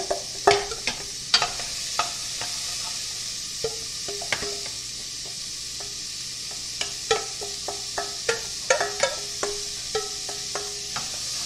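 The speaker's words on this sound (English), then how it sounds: "mirepoix in. Good to hear that sizzle." Steady sizzling of mirepoix vegetables for lentil curry soup in a hot pan, with occasional clinks and scrapes of a stirring utensil over the continuous frying hiss.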